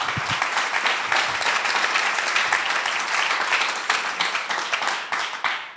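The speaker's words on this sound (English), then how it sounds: "please make a strong applause for yourself" An audience at a business club event applauds itself, a dense, loud burst of many hands clapping that holds steady throughout.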